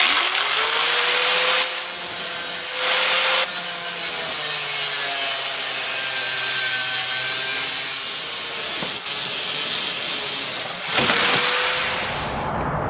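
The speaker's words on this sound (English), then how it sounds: "the next step we need to take is to actually cut the bar in half" A steady, continuous rasping saw cuts a metal bar in half for a cam lock tool for an Audi B5 S4 2.7t, with a high whine, pausing briefly a few times before resuming, loud and close.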